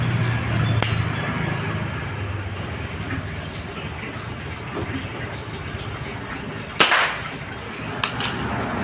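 A single crisp Marauder air rifle pellet shot snaps out amid quiet ambient noise, trailed by a couple of faint clicks shortly after.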